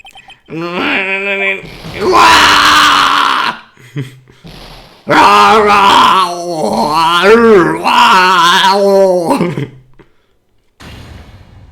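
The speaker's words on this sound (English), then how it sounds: "That scream. I heard that scream before." A shrill, drawn-out scream rings out in the Phoenix Wright: Ace Attorney courtroom game, with loud bursts of vocal sound rising and falling in several waves over about ten seconds.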